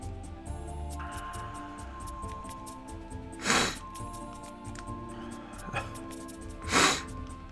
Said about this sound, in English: Apologies for the sniffles.